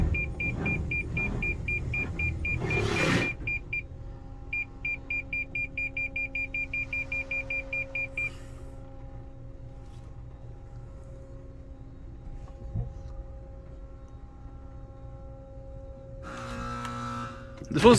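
Autec Evolution soft-touch car wash at a Shell gas station runs with a steady mechanical hum, a long series of rapid electronic beeps early on, and bursts of spraying and brushing near the start and end.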